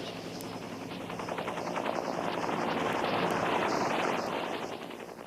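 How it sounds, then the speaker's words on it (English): An attack helicopter, a missile-armed gunship used for tank hunting, flies close by with a steady, loud rotor drone and rhythmic blade chop that holds for about five seconds without speech. "The attack helicopter"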